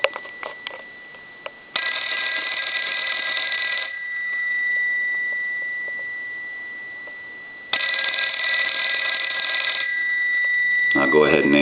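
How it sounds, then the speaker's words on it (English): A Western Electric 302 rotary telephone's bell rings in two long electric bursts of about two seconds each, loud and close, separated by a quiet pause, with a faint hum between rings. "I'm going to go ahead and ring the telephone"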